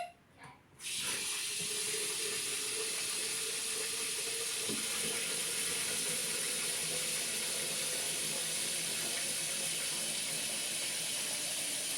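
Filtered water gushes steadily from a tap with a constant hissing flow after a brief quiet start.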